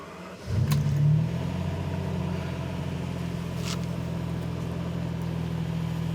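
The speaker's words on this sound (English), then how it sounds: "Then it's turned the engine on." A Ferrari 456 GT's engine catches and settles into a steady low idle after being started, with a brief louder burst at ignition followed by an even, continuous hum nearby.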